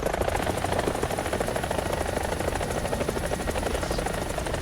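Continuous helicopter rotor thudding with a whining engine in the video game War Thunder, loud and steady throughout with no pauses.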